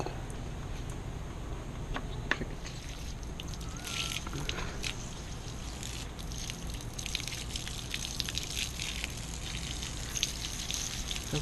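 A faucet runs steadily, rinsing a 1975 Lawnboy two-cycle lawn mower, giving a constant close hiss and splatter with scattered drips and small splashes throughout.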